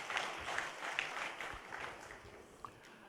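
Scattered audience applause at a corporate programme welcoming a speaker, with a few clearly separated claps and faint murmuring in a quiet hall, fairly soft and thinning out toward the end.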